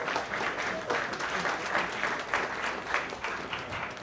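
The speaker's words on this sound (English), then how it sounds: "Ladies and gentlemen, I get a round of applause for Sam." Steady applause from a small audience at a brand-launch talk, welcoming Sam Kulikov of Social Apex, with dense clapping sustained at even loudness throughout and a few murmured voices mixed in.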